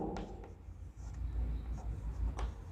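A pen scratches across paper while a report is handwritten for a class 12 English lesson, with steady close scraping strokes and a few sharper ticks.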